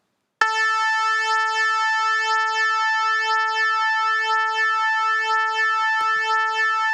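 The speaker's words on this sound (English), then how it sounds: "you'll see and hear the phase interference, the constructive and the destructive interference" A MicroBrute synthesizer holds steady 441 Hz tones whose combined waveforms beat against each other, the sustained buzzy note swelling and fading in slow regular pulses from phase interference, with a faint click near the end.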